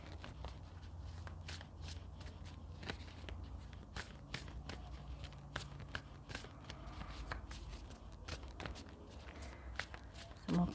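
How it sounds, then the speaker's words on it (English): Tarot cards shuffled and drawn during a tarot reading, giving a steady run of soft papery riffles and sharp flicks, with a voice talking over it. "Okay, let's draw some more cards here."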